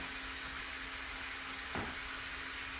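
A steady mechanical hum with a constant low tone runs throughout, broken by one brief thump near the end.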